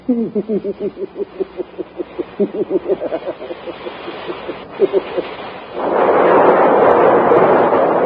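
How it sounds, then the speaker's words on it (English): A sci-fi rocket ship crashing onto a planet in an audio drama: a long, loud roaring rush of noise swells in and holds steady at the end, following a voice speaking over rumbling effects. "The rocket ship hits the planet."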